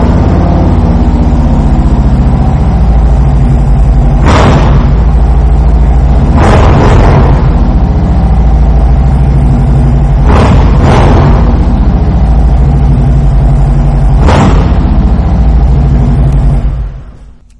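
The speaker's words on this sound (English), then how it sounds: "I am going to take the opportunity right now to fire this motorcycle up so you can hear that exhaust." A 2019 Harley-Davidson Road King fitted with Vance & Hines exhaust pipes idles with a loud, deep, close rumble, broken by several sharp throttle blips before the engine cuts off at the end.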